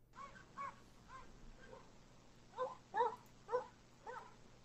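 A dog barking in a backyard near a fence line at night, with a few short, distant barks spaced out over a few seconds against a quiet background.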